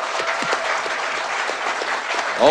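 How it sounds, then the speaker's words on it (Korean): Studio audience applause at a 2017 Bareun Party leadership candidates' debate, with steady, even clapping that stays close and loud throughout. "모두 고생하신 분에게 박수 한번 부탁드립니다"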